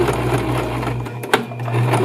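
A sewing machine runs steadily, stitching a straight seam with a continuous close mechanical hum, broken by a brief click near the middle before the motor resumes.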